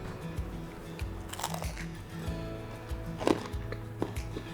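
Someone bites into a sticky, crunchy fruit and nut slice, giving a few close crunches followed by soft chewing over a low background hum.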